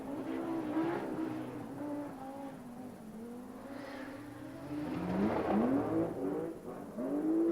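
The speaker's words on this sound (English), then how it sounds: "Just look at the power surge as Michel Mouton uses a very large chunk of a" A 450-brake-horsepower rally car at the 1984 RAC Rally roars as it accelerates, its engine note climbing in rising harmonic sweeps and surging louder near the end, with no talk.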